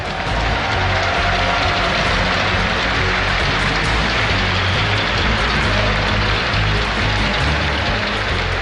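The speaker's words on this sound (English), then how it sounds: "Give it up for Rain." A crowd at a StarCraft 2 esports match applauds a player, and the dense, loud clapping goes on without a break for the whole stretch.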